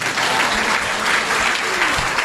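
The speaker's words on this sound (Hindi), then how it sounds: "एक बार इन जुगल जोड़ी के लिए ताली बजाओ।" Loud audience applause fills a religious gathering, a dense steady clatter of many hands clapping close by with no pauses.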